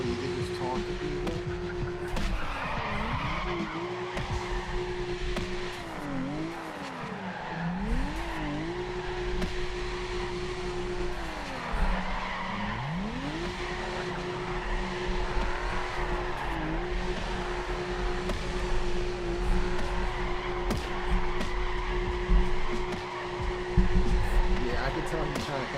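Cars drift in the racing video game Drift Time: a sustained engine drone bends and dips as tires squeal through slides, continuous and fairly loud for the whole stretch.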